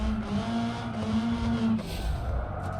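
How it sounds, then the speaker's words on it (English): Simulated car in BeamNG.drive racing a time-trial course, engine holding a steady high drone that drops off as tires squeal and skid through a hairpin corner, loud and close with no talking. "I really like driving this car, it's so much fun."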